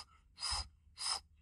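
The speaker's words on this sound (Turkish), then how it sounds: "Ve derin nefes alın." A person takes deep diaphragmatic breaths before a dive, two strong airy inhalations close to the mic, each lasting about a quarter second, separated by a short quiet pause.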